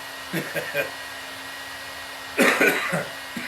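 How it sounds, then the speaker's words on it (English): Two clusters of short coughs, lingering from the flu, over a steady hum of a heating appliance, close and moderately loud. "Just a little bit of cough left over from the flu."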